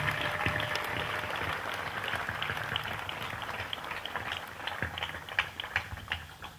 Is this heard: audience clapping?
yes